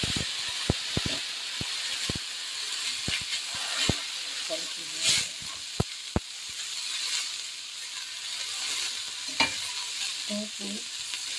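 Bihon rice noodles stir-fried in a pan for a vegetarian Chinese-style dish give a steady sizzle, broken by sharp clacks of a utensil scraping and tapping the pan. The clacks come in irregular bursts and are close and clear.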